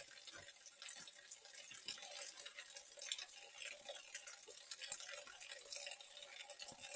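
A waterfall's steady rushing, splashing water flows continuously, bright and broadband, with no voices over it.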